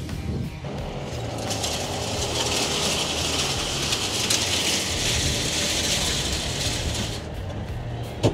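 An APV GS 600 M1 grassland harrow works across a meadow with a steady, rattling mechanical hiss. The tines scrape and clatter continuously at an even level from start to finish.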